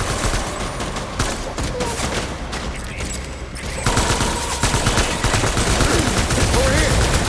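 Rapid bursts of gunfire crackle and rattle through a firefight in the video game Death Stranding, with dense overlapping shots and a shouted voice amid the loud barrage.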